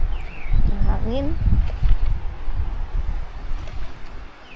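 Gusty wind rushing across an outdoor rooftop terrace construction site, a steady broadband roar that dips and swells, with some faint voices and clatter underneath.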